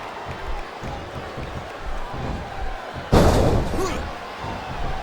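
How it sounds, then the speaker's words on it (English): Wrestling arena crowd at a WrestleMania ladder match, a steady roar of fans cheering underneath, then a sudden loud slam on the ring jolts the noise upward near the end. "Now the fans start to cheer for him."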